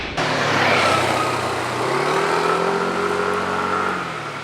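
A Yamaha Tricity 155 three-wheeled scooter is ridden on a winding mountain road in Japan, its engine droning steadily nearby with a smooth pitch that climbs and then settles, no voices over it.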